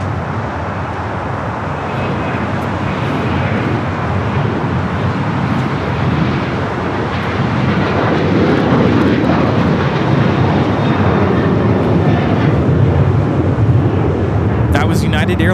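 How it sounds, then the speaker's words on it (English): A United Airlines Boeing 737-900ER taking off from Los Angeles International Airport for Orlando gives a continuous, swelling jet roar that grows louder in the second half, with people talking over it. "That was United Airlines 1621 taking off to Orlando on the 737-900 ER."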